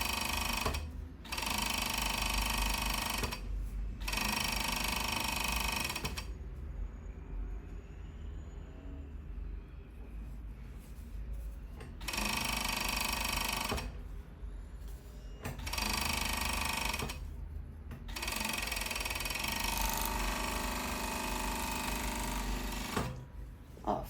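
A sewing machine stitches the side seam of a ruffled dress in bursts of rapid mechanical chatter, stopping and restarting several times with quieter pauses between runs.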